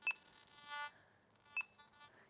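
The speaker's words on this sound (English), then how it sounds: "You'll hear beeps" A Nokta Makro Simplex+ metal detector gives two short electronic beeps during ground balancing, each followed by a softer tonal chirp, quiet and spaced about 1.5 seconds apart.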